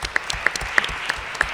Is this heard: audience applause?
yes